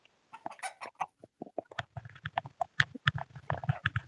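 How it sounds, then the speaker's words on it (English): A rooster on a Loess Hills homestead clucks in a run of short, uneven bursts outdoors, moderately close and alone, with a few sharper calls scattered between the lower clucks. "And that one way over there is a rooster."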